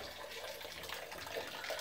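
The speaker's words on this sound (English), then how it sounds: "You will see I've connected the hose pipe over here, garden hose." Water runs steadily from a garden hose hooked up to flush the cooling system of a Volvo Penta 2003 engine without a turbo, a faint continuous rushing with no one talking.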